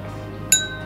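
Two glasses clink once in a toast during a solo yakiniku meal, a single bright ringing tap that rises above a low restaurant hum and fades quickly.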